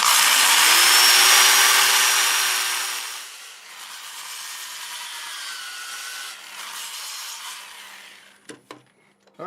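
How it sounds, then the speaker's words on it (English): A turned wooden piece, sanded with 80-grit paper on a lathe running forward at about 380 RPM, gives a loud steady abrasive rush that eases off partway through and ends with a few brief knocks. "I'm going to start with 80 grit lathe running forward at about 380 RPM"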